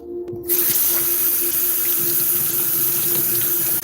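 Water rushes steadily and loudly through a paint sprayer being flushed out after painting a projection screen, a constant hiss-like gush that starts abruptly and runs on without a break.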